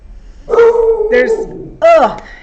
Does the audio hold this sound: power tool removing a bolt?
no